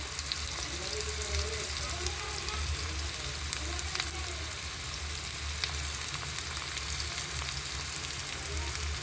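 Chopped tomatoes frying in a pan, with a steady close sizzle and crackle running throughout and a voice speaking faintly underneath.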